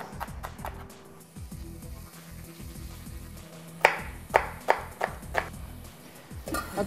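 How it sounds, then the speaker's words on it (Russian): Onion being diced into medium cubes with a knife on a cutting board, a run of sharp chopping taps that quickens into a cluster of louder knocks near the end, close and alone. "нарежу туда не очень крупно кубиком лук, чтобы после варки он особо не торчал из ложки"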